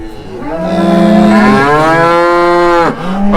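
Several cows moo loudly and close by in a long, sustained, wavering low call that swells and holds before breaking off near the end, then a fresh call begins, with no talking.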